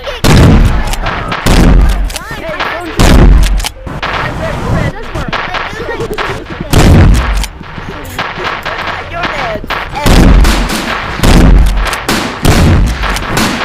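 Video game gunfire: loud, heavy shots boom in repeated bursts every second or two, close and dominant, with a person talking excitedly between and over them.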